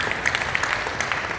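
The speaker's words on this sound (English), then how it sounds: "Let's just give them a round of applause." An audience at a health company event gives a round of applause for the speakers, a brief burst of moderately loud clapping with a few sharper individual claps standing out.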